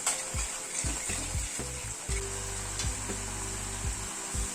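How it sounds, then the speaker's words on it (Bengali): Poppy seed paste frying in a pan, a steady soft sizzle with intermittent scraping and stirring knocks throughout, close and moderately quiet, no voices. "এবার পোস্তটাকে একটু কষিয়ে নেব।"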